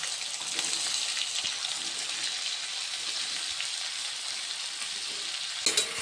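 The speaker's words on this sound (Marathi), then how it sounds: "तेलामध्ये जिरा टाकूया अर्धा चम्मच तर जिरा चांगला फुलला की लगेच आपण भेंडी कट केलेली ती टाकूया" Cut okra frying in hot oil with cumin gives a steady, dense sizzle that holds at an even level throughout, with a short louder crackle near the end.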